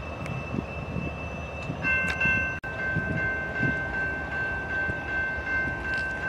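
Westbound freight train passing on a BNSF line, a rumbling rolling roar of cars with a sustained high horn tone joining partway, heard from trackside with no talk.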